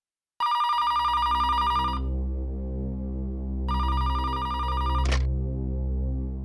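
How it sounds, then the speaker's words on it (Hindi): A telephone rings at the CID bureau, two loud electronic bursts separated by a pause over a steady low hum, with a short click near the end. "फोन उठाना है प्लीज।"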